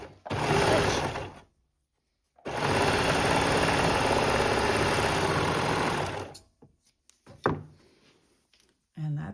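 A Babylock Accolade serger runs an overlock stitch on leftover fabric in two loud, steady bursts of fast mechanical whirring, the first about two seconds and the second about four, separated by a pause and followed by a few handling knocks.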